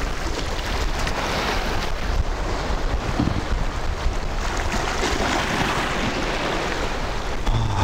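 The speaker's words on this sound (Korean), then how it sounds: "파도도 세고 바람도 셉니다." Strong sea waves and cold spring wind roar continuously at a Korean beach during sea fishing, a loud, dense wash of surf and gusty wind buffeting the microphone with no pause.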